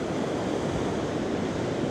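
Big ocean waves break at Nazaré, Portugal, a couple of hundred yards offshore, heard as a steady, broad roar of surf mixed with wind noise and no voices.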